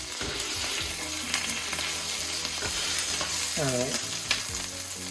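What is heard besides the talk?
smash burger patty sizzling with butter on griddle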